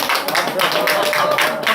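Audience applause at the close of a talk: a dense, steady patter of many hands clapping fairly close for the whole stretch, with a faint tonal hum running underneath.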